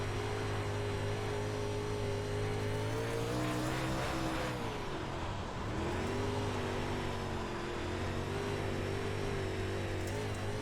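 A race car engine in the iRacing simulator, on the Weedsport track, holds a steady high drone, dips briefly as it lifts off around the midpoint, then climbs back to a sustained loud whine.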